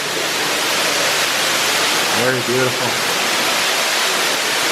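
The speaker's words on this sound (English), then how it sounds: "The waterfall pouring down there." Water pours steadily inside Marvel Cave as an underground waterfall, a loud, even rushing wash; a voice briefly speaks over it partway through.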